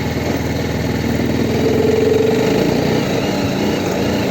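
A sports motorcycle engine runs while being ridden off-road, a loud, steady, close mid-pitched drone that holds constant throughout.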